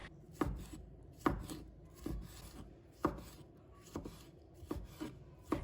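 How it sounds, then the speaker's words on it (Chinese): A knife chops a tomato into small pieces on a cutting board, with steady, evenly spaced thuds close up and no voices. "把它切成小块"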